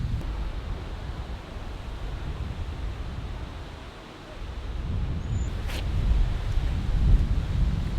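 Strong wind roars across the microphone on a mountain trail in a continuous low rumble, swelling in gusts toward the end.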